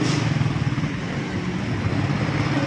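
Motorcycle parking area in Daraga with a low, steady engine rumble from motorcycles nearby, continuous and moderately loud, with no talk.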